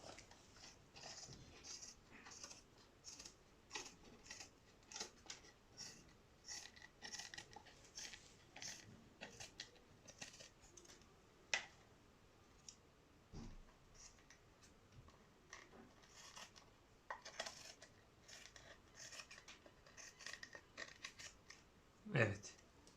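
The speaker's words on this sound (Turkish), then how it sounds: "Onları makasla alıyorum." Scissors snipping off the overhanging edge of an OX long pips table tennis rubber glued to a blade, a long series of quiet close clicks and cuts at an uneven pace, with someone talking at times.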